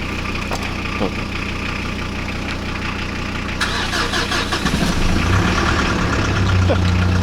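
A loud, steady diesel engine rumble of a tractor throughout, idling with a rough throb, rising slightly toward the end; faint voices mix in.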